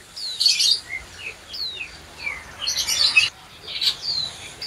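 A great tit sings in bright, high chirping bursts with short pauses between phrases, close and clear against a quiet background in a bird shop.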